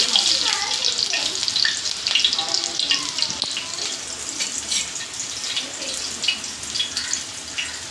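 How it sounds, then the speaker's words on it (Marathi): Chicken keema patties fry in oil over a low flame, giving a steady soft sizzle that continues throughout with no voices. "म्हणजे चांगलं एकदम छान मंद आचेवर त्यांना तळून घ्यायचं"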